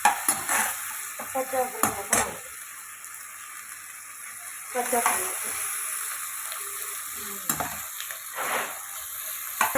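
Masala paste for paneer butter masala sizzles and cooks down in a pan with occasional stirring and utensil scrapes, a steady close frying hiss with brief speech over it.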